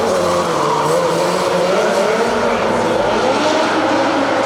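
A V8 engine in a mini truck with two separate exhaust systems roars loudly and continuously up close, a harsh, high-revving tone with shifting pitch.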